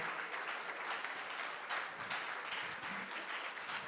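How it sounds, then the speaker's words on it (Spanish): Audience applause for a guest speaker, Dr. Guillermo, at a Spanish-language lecture on innovation management: steady, dense clapping from a crowd that fills the room, holding at a fairly even level throughout with no speech over it. "démosles un fuerte aplauso"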